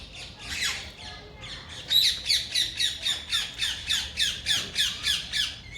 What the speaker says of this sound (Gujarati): અહીંયા સરસ પોપટ પણ આવી ગયા છે